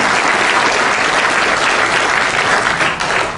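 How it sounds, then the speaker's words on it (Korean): A rally audience at the launch of a nuclear security citizens' front applauds to welcome announcer Lee Jeong-min, a loud, dense wash of clapping from a large crowd held steady throughout with no talking over it. "우리 이정민 아나운서한테도 우리 박수로 환영합니다"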